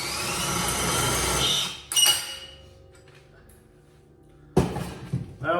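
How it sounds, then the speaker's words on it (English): An electric drill bores holes in metal for a homemade muffler, a loud close whine that winds down, followed by a quiet pause with faint tones before another burst of drilling. "I'll probably put you on time lapse quick while I drill these holes out"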